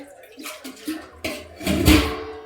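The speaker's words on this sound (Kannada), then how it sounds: "ಈಗ ನನಗೆ ಎಷ್ಟು ಬೇಕಷ್ಟು ನೀರು ಹಾಕ್ಕೊತೀನಿ" Water poured into a cooking pot for a Karnataka-style sour curry (huli), a short splashing pour that swells toward the end, close and fairly loud.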